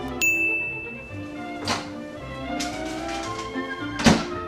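A microwave's bright electronic beep rings out, followed by a couple of soft thuds and a louder clunk near the end as its door opens.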